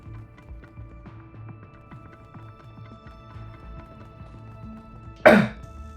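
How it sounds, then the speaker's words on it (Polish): A single rough throat clearing bursts out near the end, loud and close, over faint rhythmic footstep thuds and a low steady hum from a puzzle video game. "Musiałem odchrząknąć. Mi zalegało na gardle."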